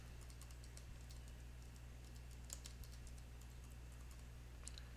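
Typing on a computer keyboard, a fast run of light clicky key taps that stays faint and steady over a low hum, with no speech.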